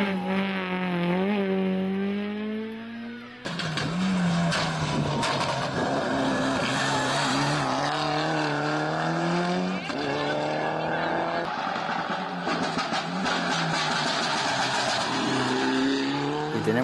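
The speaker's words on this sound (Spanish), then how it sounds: "Martín con su vehículo Toyota Corolla" Toyota Corolla rally car in competition, engine revving hard with rising and falling pitch through gear changes and some tire noise, loud and close throughout.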